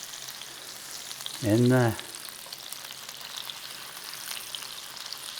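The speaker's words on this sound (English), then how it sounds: "Now it's a sear on this pork tenderloin." Pork tenderloin dusted in flour searing in a hot pan, a steady bright sizzle and crackle throughout, with a brief spoken phrase partway through.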